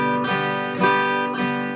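A single strummed bass note rings out, followed by two chord strums in quick succession, each ringing and fading, played alone and close.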